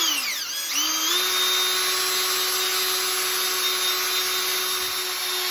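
Steady high-pitched whine of a powered sander working a helmet visor with 1200 grit paper, loud and continuous, with a brief dip in pitch near the start before settling into an even drone.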